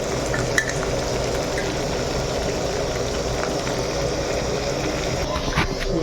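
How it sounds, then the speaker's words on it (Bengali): Country chicken frying with garlic and ginger paste in a pan, a dense, loud, continuous sizzle with occasional stirring scrapes, close and steady. "রসুন আদা এগুলো পেস্ট ভালো করে ভাজা যাচ্ছে"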